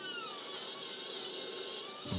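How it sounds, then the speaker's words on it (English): A Dremel rotary tool with a cutting disc slices through bolts during a van build: a loud, steady high-pitched grinding whine runs continuously, with no talk. "I'm gonna go cut some bolts. I got the Dremel."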